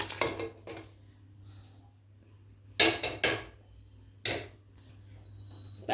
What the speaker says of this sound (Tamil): இந்த பாத்திரத்தில் சாம்பாரை ஊற்றிடுவோம்